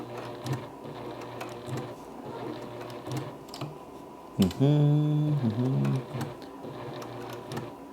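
A Juki Haruka TL 18QVP sewing machine stitching a patch gives a quiet, rhythmic mechanical hum, then a louder whirring burst midway that settles back to soft clicking.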